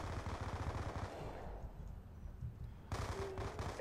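SMG fire in the PC game Black Ops 2 crackles in quick bursts, fairly faint and distant, with a pause in the middle before another rapid burst.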